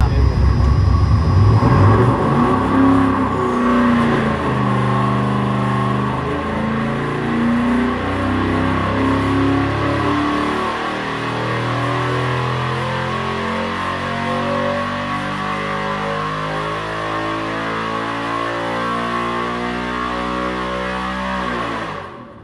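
A 5.3 liter L83 V8 runs on a dyno, revving up through a long, loud, rising pull with strong harmonic engine drone before easing off at the end, close and with no voices over it.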